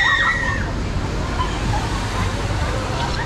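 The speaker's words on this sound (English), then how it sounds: "this is the water slide I went on earlier. Just hover, there's someone coming down on this inside lane" Rushing, sloshing water on a waterpark water slide as a rider comes down the inside lane, a steady churning wash with faint crowd chatter in the background.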